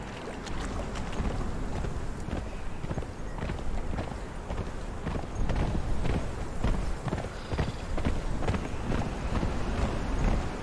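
Horse hooves in Conan Exiles clop in a steady, quick rhythm at close range over a constant windy wash, loud and continuous with no talking.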